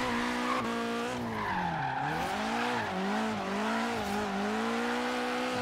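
Tires squeal steadily on Adam LZ's cream 240SX as it street drifts in Forza Horizon 3, a loud whining screech that bends in pitch with each slide over the low-power engine's drone.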